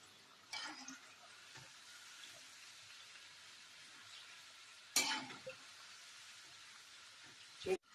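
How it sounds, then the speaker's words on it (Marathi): Shankarpali deep-fry in oil over a low flame with a soft, steady bubbling sizzle. A few louder splashy stirs and clinks rise above it, and the whole scene stays faint. "मंद आचेवरती तळूया छान गुलाबी रंग येतोपर्यंत"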